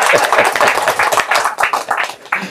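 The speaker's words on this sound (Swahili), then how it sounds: "Mpigieni makofi Mungu kwa neema yake" People at a public meeting on community water services clap together in a brisk, close patter of sharp hand claps, with voices mixed in.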